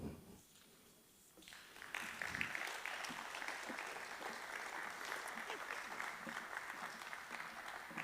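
After a quiet moment, an audience at a Chamber of Commerce candidate forum breaks into sustained applause, a dense, even wash of clapping that holds steady to the end, with faint speech beneath the quiet opening.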